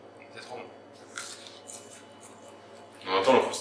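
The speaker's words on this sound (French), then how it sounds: "On entend le croustillant." Crispy restaurant food with mayonnaise bitten into, a soft crunch near the start and a louder, sharper crunching bite at the end, heard close up between quieter chewing sounds.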